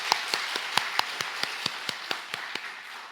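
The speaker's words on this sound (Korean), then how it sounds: "다시 한번 감사의 박수 보내겠습니다." A church congregation claps during a worship service: about fifteen quiet, steady, evenly spaced claps at a brisk rhythm, heard from a distance with no talk.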